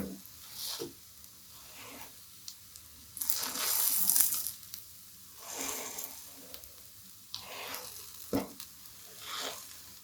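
Soybean pudla batter cooking in a pan, a soft sizzle with intermittent scraping and stirring noises that swell and fade in short bursts, fairly quiet and close.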